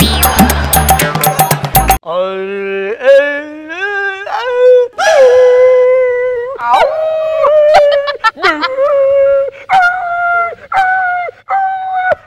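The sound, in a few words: performer imitating a dog howling and whimpering in comedy skit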